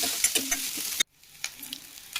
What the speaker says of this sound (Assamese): আলুখিনি আৰু মটৰখিনি অকণমান ভাজিব লাগিব